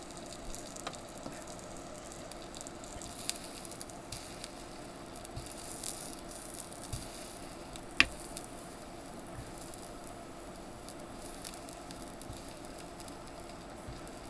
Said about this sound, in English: It is cooking the heck out of this pepperoni.